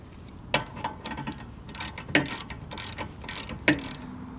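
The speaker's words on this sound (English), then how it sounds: "I'm going to use my ratchet and then a hammer" A ratchet is struck with a hammer to loosen a brake caliper bolt: three sharp metallic clanks spaced about a second and a half apart, with softer clicking and rattling between them.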